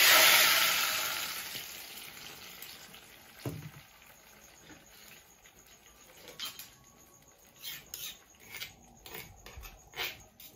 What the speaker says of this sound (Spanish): Tenemos caliente nuestro aceite, le vamos a agregar la salsa